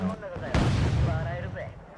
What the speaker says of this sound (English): Second missile swarm going in.